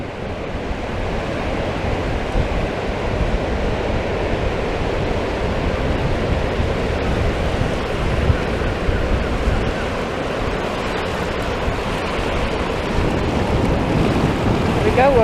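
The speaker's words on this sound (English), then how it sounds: "We're right at the water's edge and the sea's coming in." Waves washing onto a windy Blackpool beach at the water's edge as the tide comes in, a steady broad roar of surf mixed with gusting wind buffeting the microphone, continuous and fairly loud throughout.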